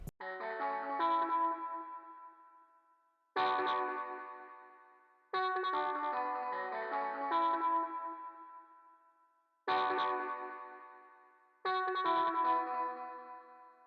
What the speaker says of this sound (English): To get that authentic guitar reverb sound